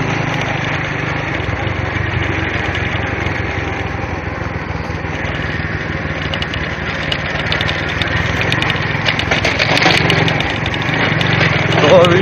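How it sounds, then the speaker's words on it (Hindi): Motorbike engine running steadily while riding one-handed along a route near a river lined with trees, a continuous drone with wind buffeting throughout, loud and close, with a voice talking over it. "एक हाथ से बाइक चला रहा हूँ"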